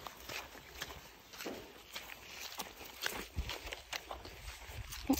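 Footsteps crunch through woodland undergrowth in a loose, irregular series of soft steps, some closer and sharper than others, against a quiet outdoor background.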